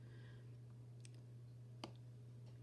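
A computer mouse gives a few faint, sharp clicks, spaced apart, over a steady low electrical hum in a quiet room, with no talking.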